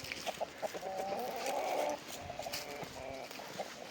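Roosters and hens on a farm cluck and call in a steady, busy chatter, moderately close and fairly faint, with no one speaking.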